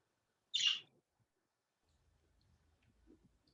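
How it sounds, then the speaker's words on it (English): A talkative pet bird gives one sharp, loud high call near the start, followed by faint low rustling and soft murmurs. "we have this one bird that's really talkative"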